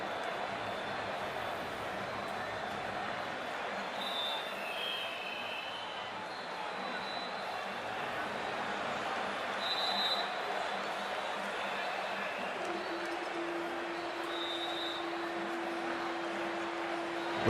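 Simulated stadium crowd at a cricket match in the Cricket 24 video game, a steady broad murmur and hum of spectators with faint whistles and calls rising above it, continuous and moderately distant throughout.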